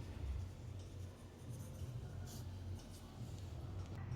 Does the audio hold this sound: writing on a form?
yes